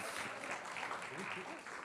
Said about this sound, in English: A round of applause for our amazing team and our founders.